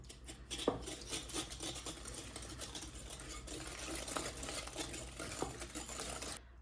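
Eggs, butter and vanilla sugar being mixed in a bowl for a chocolate lava cake, a soft continuous whirring and scraping at low volume with faint clinks, no talk.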